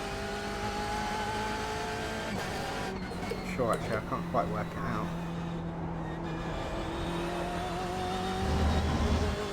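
Damaged race car engine in the iRacing sim at Road America droning steadily under continuous conversation, its pitch wavering with a few rev changes midway.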